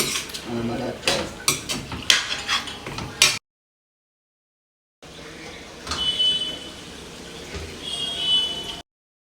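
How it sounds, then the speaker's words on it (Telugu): Spoon scraping and clinking against a pot while keema methi tomato curry is stirred, a quick series of close metallic taps and scrapes, a silent break, then softer stirring scrapes with someone speaking over them. "మధ్య మధ్యలో ఒకసారి కలపాలండి"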